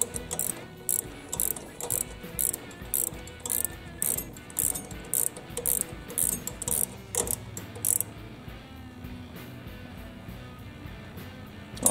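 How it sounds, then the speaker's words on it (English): Ratchet wrench turning a bolt on a John Deere SST16 riding mower, a close run of rapid clicking bursts in a steady back-and-forth rhythm for several seconds, then a quieter pause. "And ratchet wrench. These ratchet wrenches are nice."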